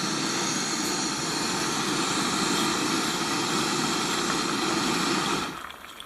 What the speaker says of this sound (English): So I'll crank the pocket rocket up full